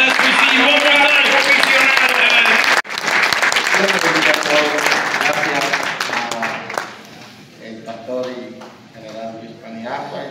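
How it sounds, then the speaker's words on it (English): An audience at a chaplains' gathering in New York applauds loudly and steadily for several seconds, then the clapping thins and fades under a voice speaking. "Let a great shout of applause."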